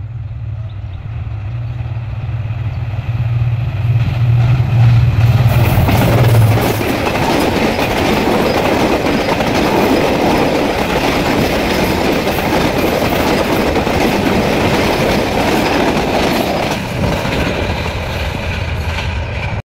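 A train rumbles past on the rails, loud and steady with a low engine hum at first, then rattling wheels and clatter that fade slightly toward the end.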